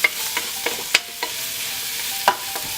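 Curry ingredients being sautéed in a pan for a cinnamon shrimp curry, with a soft steady sizzle broken by several sharp spoon-against-pan scrapes and clacks, no voices.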